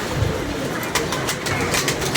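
Several loft pigeons give low, repeated coos, with a few brief sharper rustles like wing movement mixed into a constant background hiss.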